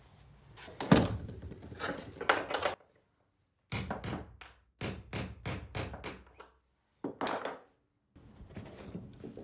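Sharp metal-on-metal hammer strikes knock out a pin on a box van, coming in quick bursts separated by short pauses, close by and loud.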